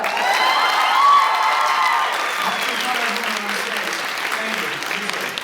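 An audience at a fan convention panel bursts into applause with cheers and whoops, loud at first and then tapering into lighter clapping as a few voices carry over the crowd.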